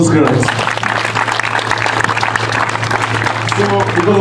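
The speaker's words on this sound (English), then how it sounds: "Clap for Jesus Christ." A church congregation claps for Jesus Christ, a loud, dense, steady burst of hand claps filling the space, with voices mixed in and a low hum underneath.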